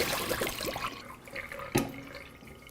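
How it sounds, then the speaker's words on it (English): Water splashes and gurgles as it is poured out of sample bottles, a continuous close-up trickling stream with a brief sharper splash midway, no voices. "pour the water out of bottles 2, 3, and 4 and allow them to dry"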